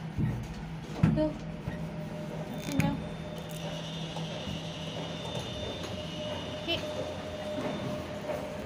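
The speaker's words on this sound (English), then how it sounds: "the train is really, really, really slow" A train rolls steadily along the rails with a low rumble and a faint whine, a couple of soft knocks standing out early on.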